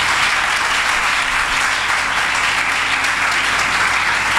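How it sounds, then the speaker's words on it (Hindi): A church congregation claps loudly and continuously during a sermon, a dense, even wash of applause holding steady throughout with no talk over it. "आयम यीशु के लिए जोरदार तालियां बजाएं।"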